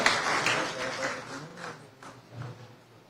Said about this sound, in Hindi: आपकी तालियों की गड़गड़ाहट बंद नहीं होनी चाहिए